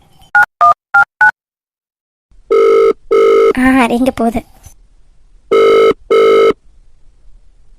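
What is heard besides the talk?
telephone ringing during outgoing call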